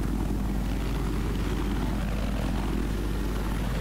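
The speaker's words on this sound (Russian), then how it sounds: "он спокойно вместе с Мином сейчас не выпускает вертолет даже за ближайший небоскреб через реку" Helicopter flying in a Battlefield multiplayer match among city skyscrapers by a river, a steady loud rotor and engine drone throughout with no talk.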